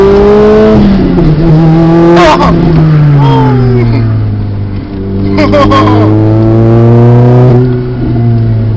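A 2005 Lotus Elise engine revs loudly and close, pitch rising and falling through several pulls with brief chirps, while people talk inside the car.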